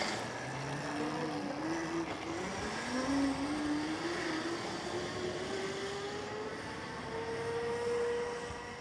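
Coleman CT200U electric trail bikes racing outdoors, a steady rising whine that climbs in pitch as the motors speed up, with continuous wind and tire rumble throughout and no talking.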